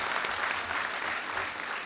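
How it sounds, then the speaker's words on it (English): A graduation ceremony audience at ZETECH College in Nairobi applauds, a thick, even wash of many hands clapping at steady loudness for the whole stretch, with no other sound standing out. "I think you need to clap for me now"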